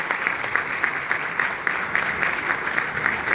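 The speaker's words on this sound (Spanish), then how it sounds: "El aplauso," An audience at an award ceremony in Mexico applauds in a sustained, even burst of clapping, with no voices over it.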